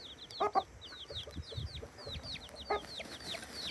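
Many small chicks cheep in quick, high chirps that run throughout, with a few lower clucks from a hen underneath.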